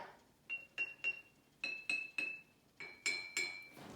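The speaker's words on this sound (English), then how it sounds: "she's going to hit those 3 mason jars" Three mason jars are tapped gently one after another, each struck in small groups that give bright glassy clinks at three distinct pitches rising from low to high, quiet and close.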